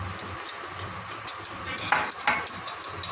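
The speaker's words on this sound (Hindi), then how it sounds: "और जब तक गाढ़ा नहीं होता इस तरह पकाते रहने आपने।" Custard is stirred in a pot while it thickens, a spoon scraping and clinking softly in a steady rhythm with a couple of louder knocks near the end.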